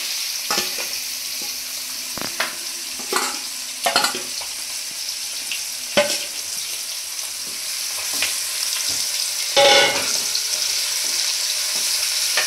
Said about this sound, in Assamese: মই ইয়াত মেৰিনেট কৰি ৰখা মাংসখিনি দি দিছো।